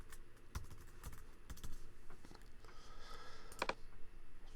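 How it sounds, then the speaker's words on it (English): Typing a password on a computer keyboard, a quick irregular run of close, light key clicks with a dense burst near the end, heard alone in a quiet room. "I'm going to type my own one in."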